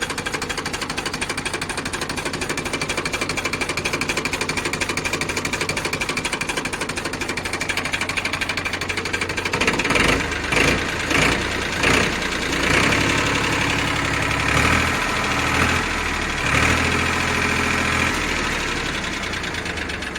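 A Powertrac 439 tractor's diesel engine idles close by with a steady low rumble, then turns rougher and knocks unevenly in the second half.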